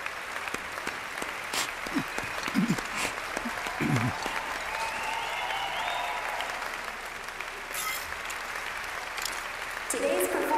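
Applause in the video game Final Fantasy VII Rebirth: an audience at a performance claps steadily with dense clapping throughout, moderately distant, while a few brief voices and sounds cut through now and then.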